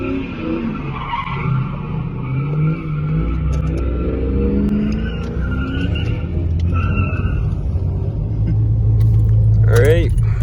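Car fitted with a hydraulic handbrake spins its tires, loud close squealing and skidding with engine rumble rising toward the end, while people talk over it.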